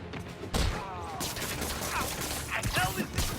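Enemy gunfire in Marvel's Spider-Man: dense bursts of shots and crashing impacts over layered game action, loud and close, with a voice briefly mixed in.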